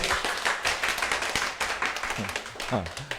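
Scattered applause from a crowd, a run of clapping hands with a voice speaking briefly over it near the end.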